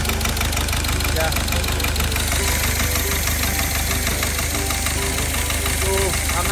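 A 2011 Peugeot 308 engine with a failing number 4 fuel injector runs steadily and loudly up close, with a continuous rough, knocking idle and a faint rhythmic tick throughout.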